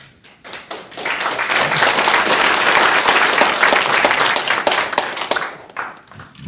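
Audience at a debate forum in the National Assembly breaking into applause, a dense burst of clapping that builds quickly, holds strongly for several seconds, then tapers off into scattered claps.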